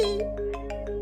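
A mobile phone ringtone chimes in a repeating pattern of short bright tones over a steady tonal backing, close and fairly loud with no talking.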